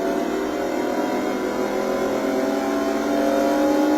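Motorbike engine from the supermoto racing game Riding Spirits 2, a 570 class bike, revving hard and steadily at high pitch, loud and continuous throughout with no talk.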